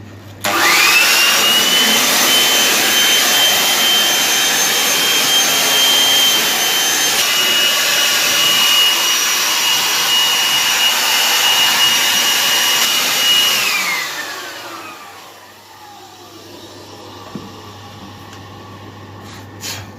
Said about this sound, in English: I'm just going to put my leaf blower and slowly scoop it to direct the air that way